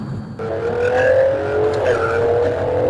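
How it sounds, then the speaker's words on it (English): A car doing a second-gear rolling burnout on Nitto tires, with a loud sustained tire squeal over a revving engine, close and continuous. "this is a second gear rolling burnout, and it almost got away from me"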